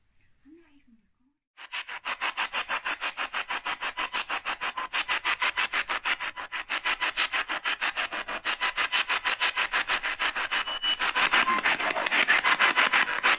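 Ghost-hunting spirit box (S-Box) radio sweep inside a care home: a loud, rapid, rhythmic rasping chop of scanning static running steadily for about twelve seconds after a brief quiet start.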